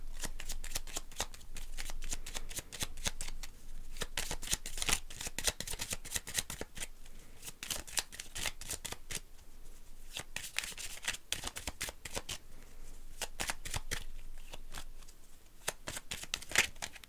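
Petit Lenormand cards are shuffled by hand in a long run of close, crisp riffling flutters and soft snaps, with no talk.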